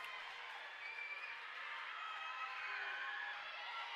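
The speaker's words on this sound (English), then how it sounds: "So a huge round of applause from the senior student section" Applause from the senior student section at a high school volleyball match between Johnston and Centennial, a steady, fairly distant wash of clapping and crowd noise lasting throughout without clear individual claps.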